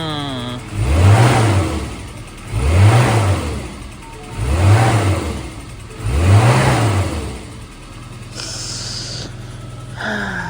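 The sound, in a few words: Japanese kei car engine revving at auction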